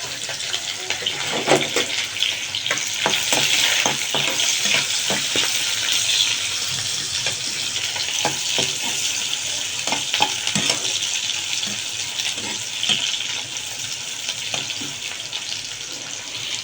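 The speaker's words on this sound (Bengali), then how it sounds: "আজকে এই যে বাবুই শাকটা দিয়ে এই শুটকিটা রান্না করব" Dried fish (shutki) with babui greens frying and being stirred in a pan, a continuous close sizzle with scattered scraping and clacking strokes throughout, no talking.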